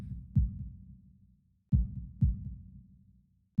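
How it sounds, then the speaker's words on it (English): A slow, deep heartbeat from the visual novel game Katawa Shoujo thumps in close, loud double beats, with long quiet gaps between each pair. "The heartbeat's not going crazy."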